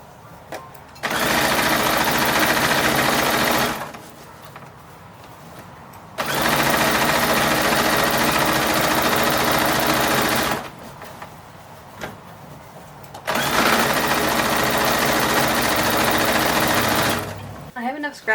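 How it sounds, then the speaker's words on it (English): A sewing machine stitches a collar onto an 1882-style cotton bodice, running in three long steady bursts separated by short pauses, loud and close with a fast even whir. "I'm going to sew on the collar"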